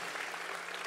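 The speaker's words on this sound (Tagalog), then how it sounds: "mas malakas na palakpak at mas deserve na palakpak sa ating Panginoong Diyos" A church congregation applauds during a service, a dense even wash of clapping heard from some distance, short and unbroken.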